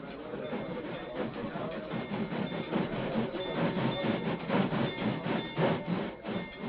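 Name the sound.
train crossing a bridge, radio drama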